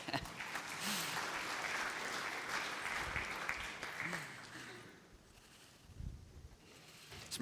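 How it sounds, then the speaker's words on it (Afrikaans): Congregation applause in a church service, a broad, sustained wash of clapping that holds for several seconds before thinning out, with some voices near the end. "Kom ons gee sommer vir hulle 'n lekker hande klap."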